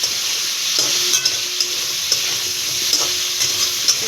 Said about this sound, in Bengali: দেখো চিংড়ি মাছটার সঙ্গে এটা ভালো করে আলুটা ভেজে নেবো